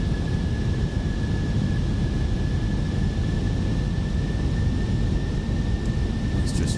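Fenix Airbus A320 in Microsoft Flight Simulator 2020, a steady broadband engine roar with a thin constant whine running throughout, unbroken for several seconds.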